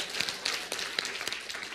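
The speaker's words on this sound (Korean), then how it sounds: "우리 박수로 잘하셨습니다." A church congregation applauding a Korean pastor's service, a brief burst of many hands clapping together, moderately loud and close.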